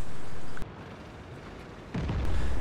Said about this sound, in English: Bam, arty strike.